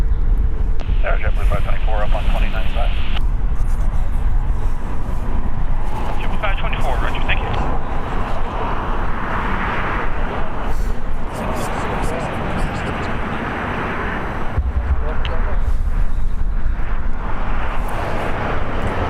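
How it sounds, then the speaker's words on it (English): A United Airlines Boeing 737-9ER departs LAX for Las Vegas with a broad, fluctuating jet rumble that rises and swells across the stretch, under ongoing talk and radio-like chatter. "Departing here on the south side is United Airlines 2063 going to Las Vegas. It's a Boeing 737-9ER"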